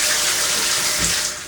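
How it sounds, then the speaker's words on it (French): Shower water runs steadily and loudly, a continuous close hiss of spray in a home shower, with no voices. "même si l'eau de ma douche elle est quand même chaude"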